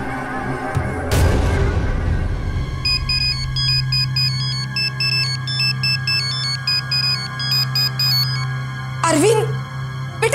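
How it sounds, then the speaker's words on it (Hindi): An electronic phone ringtone plays unanswered for several seconds, a repeating melodic tone pattern under a low steady hum, preceded by a dull boom and ending with a brief swooping sound. "अभी रिंग पे रिंग जा रही है।"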